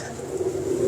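A champion pigeon coos in a loft, a short, soft low-pitched throaty warble lasting under a second, close by.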